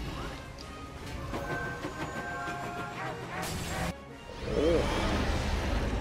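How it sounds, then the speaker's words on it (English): Train in the Lego Batman 2 video game, a continuous rumbling rush with metallic clatter and a crash-like burst near the end, under game music and effects. "Dude, it's a train!"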